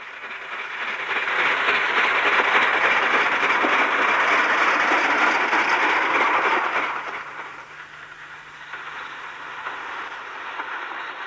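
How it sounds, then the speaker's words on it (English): LMS Ginty 3F tank steam locomotive 47542 of Templecombe Shed clatters past on the Somerset & Dorset line, a loud rushing hiss and rhythmic clickety-clack of wagons that swells, then drops away to a quieter rumble. "LMS Ginty 3F tank number 47542 of Templecombe Shed clatters past"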